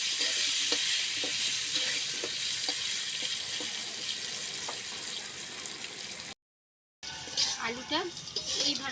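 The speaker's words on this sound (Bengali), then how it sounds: "আলুটা এইভাবে ভেজে নিয়েছি লাল লাল করে।" Potatoes fry in a pan with a steady bright sizzle and occasional stirring scrapes, briefly cutting out before sizzling resumes with sharper crackles as someone talks.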